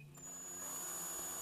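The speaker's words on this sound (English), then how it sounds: "So when we're drilling down into this" A power drill spins up and bores down into a DIY jib board, its motor whine rising quickly and holding steady, close by.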